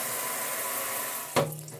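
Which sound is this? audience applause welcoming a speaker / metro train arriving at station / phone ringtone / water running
water running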